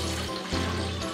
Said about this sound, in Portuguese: Vamos colocar o leite